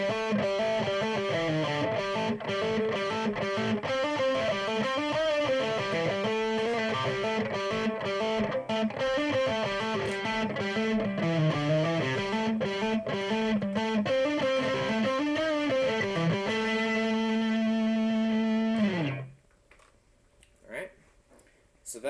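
A heavily distorted electric guitar riff from a song plays loud and continuous, with chugging rhythmic notes and sliding melodic lines, then cuts off abruptly near the end leaving a few faint noises.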